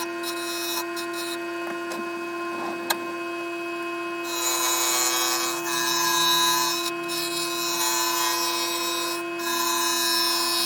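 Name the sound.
chisel shaping wood for hanging decoration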